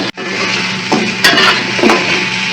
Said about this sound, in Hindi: चिकन का कलर चेंज होने तक हम इन्हें प्याज के साथ ही भूनेंगे।